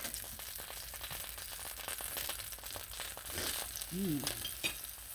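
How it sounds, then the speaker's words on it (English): French toast sizzling in a hot skillet, a steady crackling fry that carries on throughout with a few small pops and faint scrapes. "it's just going to fry them a little bit on each side"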